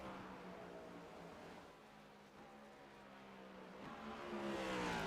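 A race car engine in a racing-league sim race at Iowa downshifts through the gears, rising and falling in pitch with a revving whine that swells near the end, faint and without talk.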